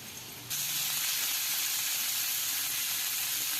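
Finely chopped green chillies drop into hot oil tempering for Gujarati khaman, setting off a sudden loud sizzle that continues as a steady, close hiss without talking.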